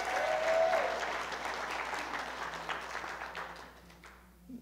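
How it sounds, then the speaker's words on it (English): Applause from a Baptist church congregation, a dense crowd of clapping that begins full and fades gradually over several seconds, moderately distant, with a few voices near the end. "Can we give her a round of applause?"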